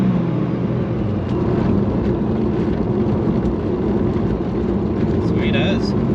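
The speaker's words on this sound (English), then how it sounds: "Now she started to light the tyres up." Toyota Supra with Bosch Motorsport 2000cc injectors accelerating hard and spinning its tyres, a loud, steady engine roar with continuous rumble, close and sustained, a faint squeal rising near the end.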